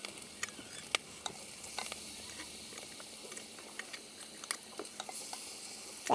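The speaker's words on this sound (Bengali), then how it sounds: "আজকে আমি মাছের তেল দিয়ে মাছ ভাজবো।" Fish frying in rendered fish fat in a village kitchen, a faint, steady sizzle with scattered crackles and small pops, and a sharper spit at the very end.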